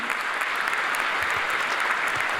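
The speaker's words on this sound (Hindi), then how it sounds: "तालियां सर के लिए होनी चाहिए।" An audience at an inaugural session with the state governor claps steadily, a dense, even patter of many hands heard from a moderate distance for a couple of seconds.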